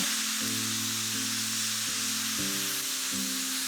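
Passata hitting a hot frying pan gives a loud, steady hiss of sizzling throughout, with a low hum and a few stirring shifts underneath and no talking.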